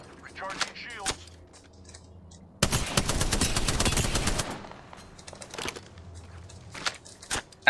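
A loud sustained burst of automatic gunfire in the video game Apex Legends Arena, bracketed by scattered sharper shots and quieter game sounds.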